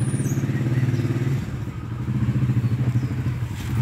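A small motorcycle engine runs steadily close by, a throbbing low putter with light mechanical clatter that dips briefly midway and then picks back up, with no talk over it.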